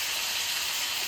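Pork steak frying under a lid in a covered pan: a steady, close sizzle with a continuous bright hiss, even and unbroken throughout with no talk.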